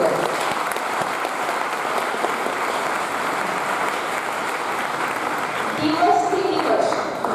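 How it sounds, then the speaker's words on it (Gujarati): An audience claps steadily through an Arya Samaj annual festival in Jamnagar, a dense sustained wash of applause. It swells slightly near the end, where a voice briefly rises over the clapping. "જોરદાર તાળીઓ આપવી।"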